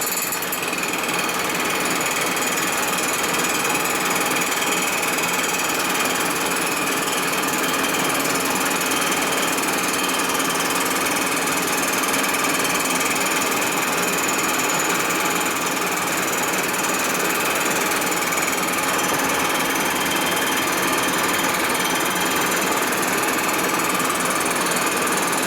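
A steady, continuous machining cut sweeps across a 1942 Harley-Davidson 45 WL/WLA 56ci flathead cylinder head, taking about a thousandth off, a dense even grind that runs loud and unbroken for the whole stretch with no talking.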